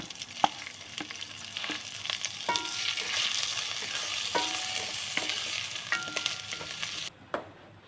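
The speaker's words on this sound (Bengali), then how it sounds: "প্রথম আমি একটু ঘি দিয়ে চালটা একটুখানি ভেজে নেব" Gobindobhog rice fries in ghee with a steady close sizzle, punctuated by sharp spoon scrapes and taps against the pan before cutting off abruptly near the end.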